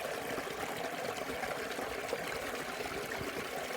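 Water from an early spring stream rushes steadily through a rocky gorge, a constant close, even babble with no voices.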